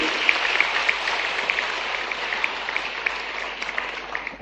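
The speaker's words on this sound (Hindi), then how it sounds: "उच्च शिक्षा विभाग के लिए जोरदार ताली बजाओ" Audience in a hall clapping for the higher education department at a Bhopal event with the chief minister, steady dense applause of many hands at moderate level, alone without talk.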